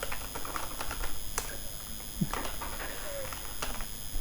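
Typing on a computer keyboard while writing text in MS Word, a quiet irregular patter of separate key clicks, fairly close, with no talking.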